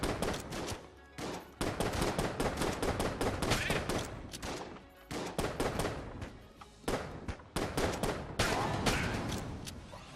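Rapid, dense automatic gunfire from the game Enter The Gungeon, loud and nearly continuous in long bursts with a few brief gaps.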